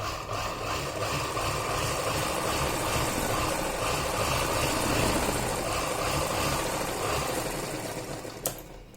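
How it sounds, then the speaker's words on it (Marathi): A sewing machine runs steadily for the whole stretch, stitching the joint where a sleeve meets a garment. Its hum is dense and continuous, and a brief click comes near the end. "खालचा वरचा कपडा एकदम बरोबर आपल्याला धरायचा आहे आणि शिलाई मारून घ्यायची"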